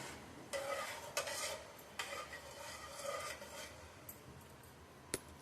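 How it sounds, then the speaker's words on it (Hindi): A spoon stirs and mixes lentils inside a pressure cooker for khichda, giving soft scraping and rubbing strokes with a few light metallic clinks, close and fairly quiet with no voices. "चमचे से इसे मिक्स कर देंगे।"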